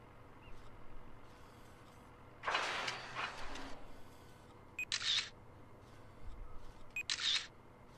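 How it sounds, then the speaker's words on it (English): A camera in the video game Watch Dogs 2 snaps two crisp shutter clicks a couple of seconds apart, following an earlier burst of rustling noise over a quiet, low background hum. "I'm taking pictures of you, mate."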